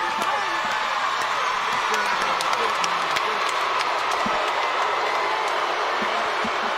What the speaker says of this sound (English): The crowd showing their approval and their appreciation.